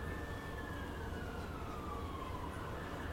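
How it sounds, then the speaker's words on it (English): A distant siren wails faintly through steady background noise, a single drawn-out tone slowly falling in pitch, with no voices present. "I always hear a siren around the same time every day"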